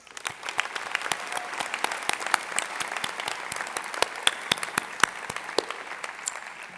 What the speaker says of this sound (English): Please give yourselves a huge round of applause.